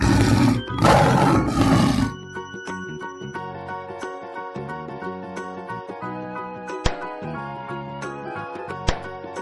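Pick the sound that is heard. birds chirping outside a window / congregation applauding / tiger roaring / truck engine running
tiger roaring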